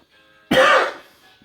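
A man with a cold gives a single harsh, close cough, a short loud rasp that fades quickly in a quiet room.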